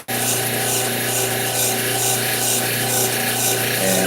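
A cabbing machine polishes the dome of an unfinished estate stone on a 3000 grit wheel, a loud continuous close whir with a steady motor hum and faint rhythmic rubbing.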